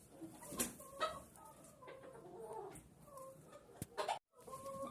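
Chickens cluck and murmur softly in short bursts inside a henhouse on a rainy day, fairly quiet and a little distant, with a dull background hiss.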